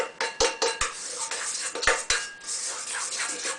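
A spoon knocks and scrapes around a bowl of melted chocolate candy discs, a few sharp clinks followed by softer stirring strokes, close and fairly quiet.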